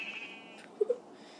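Sheep in the video game Minecraft giving two quick, faint bleats close together, over quiet background with no speech.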